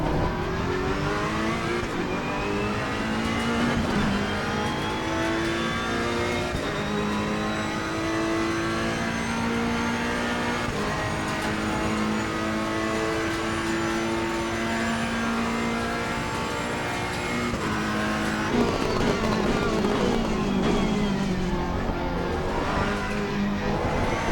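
A Ferrari race car engine in Assetto Corsa Competizione roars steadily throughout, revving and shifting with sustained harmonic whine, loud and close with no talk.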